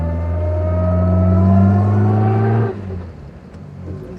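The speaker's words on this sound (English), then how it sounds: "A lot of induction roar, because you've got an engine that effectively has open intakes." A 1952 Jaguar engine with effectively open intakes gives a loud, steady induction roar as the car pulls away gently on museum grounds, the drone holding strong before easing and dropping quieter as it changes up.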